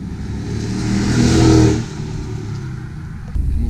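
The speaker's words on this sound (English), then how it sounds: "he just got a new exhaust on it, and it sounds amazing" A Mercedes C55 AMG with a new aftermarket exhaust drives past, its engine note building to a loud swell at the closest point, then fading as it moves away.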